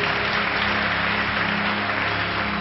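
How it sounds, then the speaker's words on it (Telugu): A church congregation claps loudly together in a dense, steady roar of hands that stays at an even level throughout, with no pauses or voices on top. "గట్టిగా చప్పట్లు కొడదాం."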